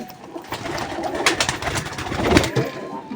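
Caged pigeons cooing close by on a rainy day, soft throaty coos repeating over a faint background hiss.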